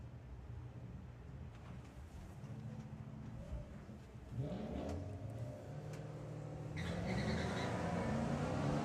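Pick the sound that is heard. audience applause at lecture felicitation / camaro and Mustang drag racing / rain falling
camaro and Mustang drag racing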